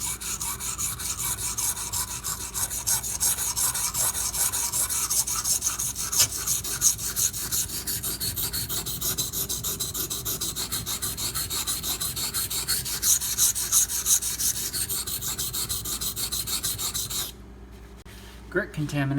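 A knife blade is ground on a Razor Edge sharpening stone with steady, rasping back-and-forth scraping that stays close and even for most of the clip before briefly dropping off.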